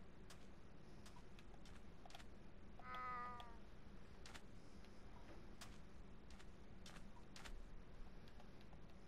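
A single brief cat meow in Minecraft, faint and quiet against soft ticking and a low background hum, with no talk.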